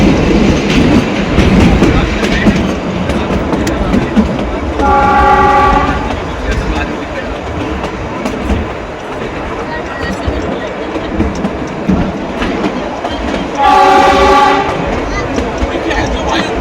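A toy train pulls out of Shoghi railway station on a cold hill route between Shimla and Delhi. Its rumble and rattling wheels run throughout, and two loud horn blasts ring out several seconds apart.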